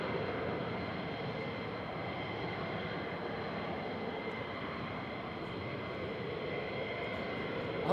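Steady broadband roar of an F-35 fighter jet at RAF Lakenheath, a constant heavy rumble holding level throughout with no pause.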